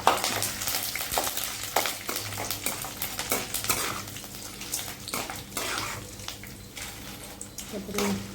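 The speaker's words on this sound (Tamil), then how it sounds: "காஞ்ச மிளகாவை கட் பண்ணி அதில் போட்டுக்கலாம். கருவேப்பிலை போட்டுக்கலாம்." Dried red chillies, cut and dropped into hot oil with curry leaves, sizzle while a utensil scrapes and stirs the pan in repeated clinks, fairly close and moderately loud.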